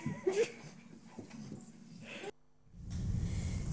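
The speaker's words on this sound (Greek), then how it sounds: "το είδαμε αυτό το βιντεάκι με τα σκυλάκια αυτά που πραγματικά πρέπει να αισθάνονται πολύ άσχημα για τη ζημιά που έχουν κάνει Νικολέτα." Dogs whimpering and snuffling, played back from a video, faint and thin over background noise, then cutting out into a louder wash of room hiss.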